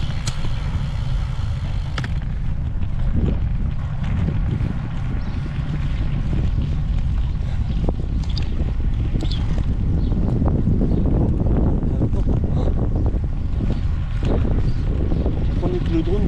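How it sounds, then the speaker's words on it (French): Strong outdoor wind buffeting the microphone on a steep 17% hillside road while following a DJI Neo drone, a constant low roaring rumble with gusty bursts throughout. "Le vent qu'il y a"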